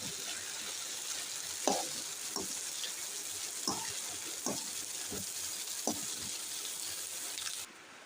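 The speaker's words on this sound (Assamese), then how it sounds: "এতিয়া দিলোঁ মটৰ সিজাৰ পিছত ভাত ঢালিছোঁ।" Rice with peas fries in a pan, a steady sizzle running underneath scattered scrapes and stirring knocks, all close by and moderately loud, before the sound drops away sharply near the end.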